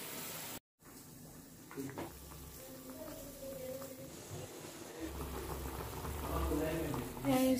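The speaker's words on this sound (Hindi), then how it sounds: "पानी उबल गया तो अभी मैं चिकन डाल दूंगी" Water boils in a cooking pot before chicken is added. A soft, continuous bubbling and simmering sits at low volume, with faint kitchen clatter and brief background voices.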